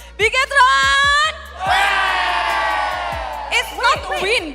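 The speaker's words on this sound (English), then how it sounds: "Mari kita bersorak bersama Bigatron." An esports event crowd cheering for team Bigetron, with loud sustained cheering and whooping that swells after a sharp shouted opening and fades into scattered yells, while a voice calls out over the crowd.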